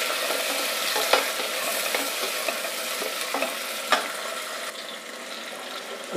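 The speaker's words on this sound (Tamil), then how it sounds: "இப்போ இதை கலந்து விடலாம். இந்த வெங்காயம் வந்து நல்லா பொன்னிறமாக ஆகும்." Onions and green chillies frying in a pan for beetroot and peas biryani are stirred, giving a steady close sizzle broken by a few sharp spatula knocks and scrapes, with no talking.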